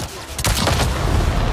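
A sudden burst of explosion erupts in Avatar: Frontiers of Pandora, a loud booming blast followed by a dense rumbling roar.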